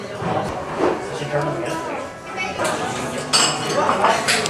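Cutlery clinking against a dish of shrimp and grits topped with fried oyster and lobster, several light metallic taps and scrapes close by, with voices talking in the background.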